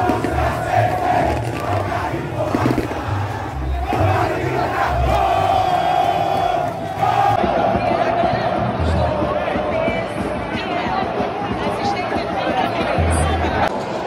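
Football fans roar and chant as ABC takes the field for the 2022 Série C final against Mirassol. A loud, continuous stadium crowd fills the whole stretch, with nearby voices talking over it.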